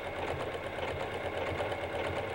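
Sewing machine stitching along a fabric heart shape on a four-patch hearts quilt, a steady close continuous motor whir with rapid needle pulsing throughout, no talking.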